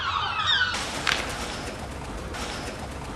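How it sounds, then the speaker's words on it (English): Pigeons near a Currys and Superdrug shop sign fitted with anti-roosting spikes, with a brief cooing call at the start and then a steady wash of street noise. "the same pigeons will attempt to come back to go onto their roosting ledges"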